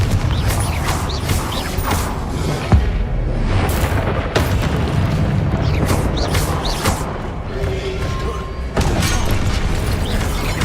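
A Confringo blasting spell in Hogwarts Legacy erupts in a series of loud booming explosions with creaking, mechanical debris and rumble, several sharp blasts scattered across a continuous noisy combat din.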